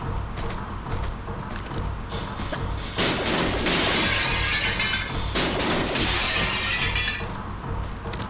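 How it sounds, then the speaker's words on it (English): Windows shatter in the video game Tomb Raider 2 Remastered, two loud bursts of breaking glass in close succession, each a bright crashing spray that tails off over a constant low game rumble. "We've smashed quite a few between us and them."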